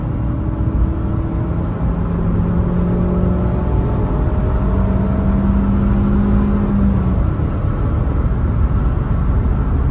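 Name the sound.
Ford Fiesta car engine accelerating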